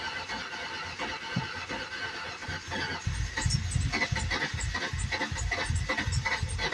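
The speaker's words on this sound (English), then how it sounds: "And there's that belt squeak again." Squealing drive belt on the engine of a 1996 Ford Taurus Wagon, a high chirping squeal over a running motor that grows louder and rougher partway through, with no talk.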